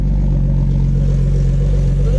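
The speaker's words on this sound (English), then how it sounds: "Man, it sounds really quiet because look how big this muffler is." A Nissan S14 drift car's fully forged RB25DET engine drones steadily, muffled by an oversized muffler on an otherwise straight-piped exhaust, loud and close with a strong low rumble.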